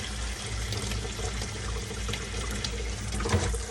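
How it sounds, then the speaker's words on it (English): Tap water runs steadily into a bowl used for washing collard greens, a loud continuous splashing and gurgling with a low rumble underneath and no speech. "So I'm filling this back up with fresh water."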